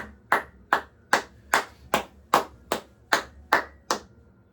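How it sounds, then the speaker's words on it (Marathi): A single person claps ten times in a slow, even rhythm, each sharp clap close and distinct with short pauses between, more a sarcastic slow clap than a crowd's applause. "So guys, a big round of applause to you guys."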